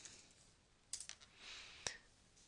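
A few quiet keystrokes on a computer keyboard, short bursts of clicks separated by near-silence, close and faint with no talking.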